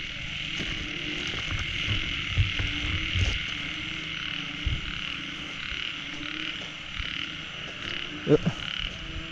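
Banded narrow-mouthed toads croak in a steady outdoor chorus of repeated calls. One louder, closer croak stands out near the end, and no one speaks.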